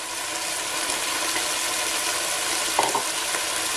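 Finely chopped carrots sizzle in a frying pan with onions, a steady loud hiss of frying that fills the stretch, with a brief stir or clatter near the end and no talking.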